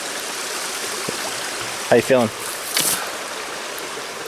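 A creek flows steadily beside a campsite on a backpacking trip along Seneca Creek near Spruce Knob, West Virginia. The water makes a continuous broad rush, and people speak briefly over it.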